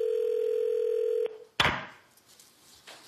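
Steady telephone dial tone held for over a second, then cut off by a click and a loud burst of line noise, heard alone with no talk, ahead of a call to a TV show caller.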